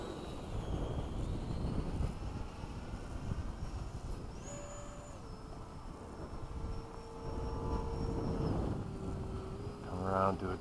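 An 80mm FMS Hawk model electric ducted-fan jet flying fast, its whine rising and falling in pitch as it passes, faint and distant against wind noise, with a brief louder sweep near the end.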